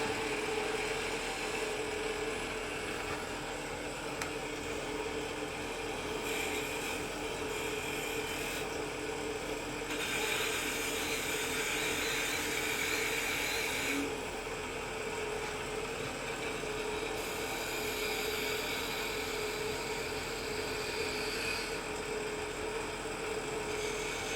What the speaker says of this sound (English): when you're sanding, you want to turn that speed down a little bit.